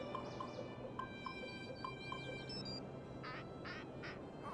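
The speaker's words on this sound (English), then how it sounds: "Duck? Yes." A duck in the mystery game Nancy Drew: Alibi in Ashes quacks in a few short repeated bursts over a steady ambient background hum.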